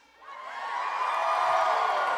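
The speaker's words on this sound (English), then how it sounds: "Everything I say, everyone just cheers all the time." Audience at a gaming convention panel at PAX West breaks into loud sustained cheering and whooping, a dense crowd roar swelling in quickly and holding steady.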